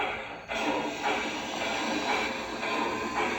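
An LGB 2119 Lake George & Boulder model locomotive, upgraded with ZimoClip sound, runs along the track with a steady mechanical hiss and rumble and faint repeated clunks, close and continuous with no talk.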